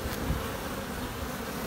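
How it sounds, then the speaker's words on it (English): Dense, steady buzzing of many bees close around a hive, a constant droning hum filling the whole moment without speech. "It's loaded with bees here"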